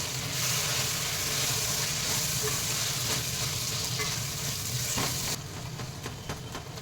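Tamarind pulp hisses and sizzles steadily in a sambhar pan, a continuous close frying crackle that drops slightly in intensity near the end, with no voices.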